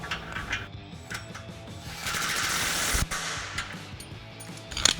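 Socket and wrench tightening a modified flange bolt on a Toyota Tundra exhaust, faint metallic ratcheting clicks and scraping close by, with a louder clank near the end.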